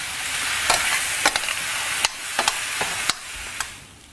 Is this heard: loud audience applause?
no